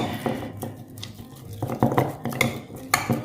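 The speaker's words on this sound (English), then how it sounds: "Now, we just want to stir this up and try to get some air in there." Close, uneven stirring of thick sourdough starter paste in a container, with soft clinks and wet scraping strokes repeating irregularly.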